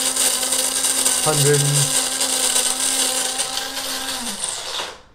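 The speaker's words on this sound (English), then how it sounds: "I'm now gonna plug in the coffee grinder and let me turn this on." An electric coffee grinder runs with a loud, steady, whining motor drone for about four seconds and then winds down to silence, with a brief spoken word near the start.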